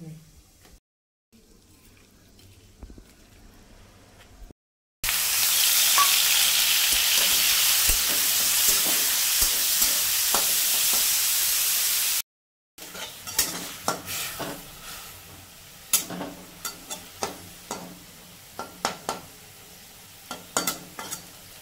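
Prawns frying in mustard oil start with a loud, continuous hiss that cuts off abruptly, then quieter sizzling follows with sharp clinks and scrapes of a utensil against the pan.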